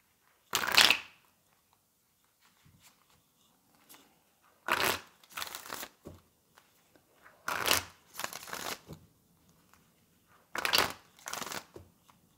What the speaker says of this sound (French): je vais remonter les cartes